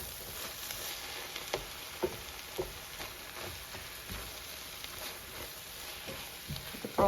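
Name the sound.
tomatoes sizzling as they are sautéed in a pan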